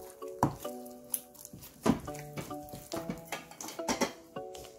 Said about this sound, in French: Il faut bien mélanger comme ça.